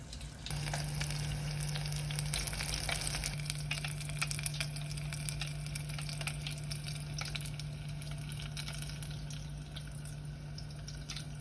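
Alligator leg pieces fry in hot oil with a steady, close sizzle and crackle that runs the whole time, with no talking.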